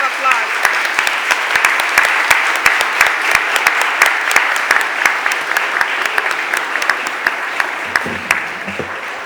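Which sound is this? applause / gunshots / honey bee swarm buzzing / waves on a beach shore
applause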